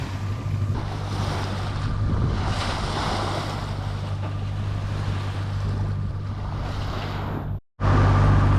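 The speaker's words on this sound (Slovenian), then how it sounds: "pada pa takole dež" Steady hiss of rain across the whole clip over a low sailboat engine drone and wind, briefly cutting out near the end before resuming.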